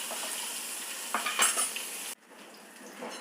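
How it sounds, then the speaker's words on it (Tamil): Food sautés in oil in a pan with a soft, steady sizzle and a few utensil scrapes and clinks. The sound drops suddenly partway through to a quieter sizzle. "இது நல்லா எண்ணெயில் நல்லா வதக்கிக்கலாம்."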